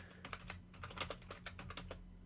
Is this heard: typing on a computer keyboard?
yes